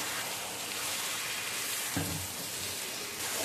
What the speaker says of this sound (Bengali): মিনিট 2 থেকে নাড়াচাড়া করার পর আমি এর মধ্যে দিয়ে দিচ্ছি ভেজে রাখা চিংড়ি মাছগুলো।